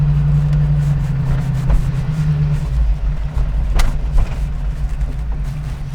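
A 1978 Chevrolet K5 Blazer Cheyenne 4x4 truck drives along, giving a steady, loud low engine rumble with a sustained hum and some road noise throughout.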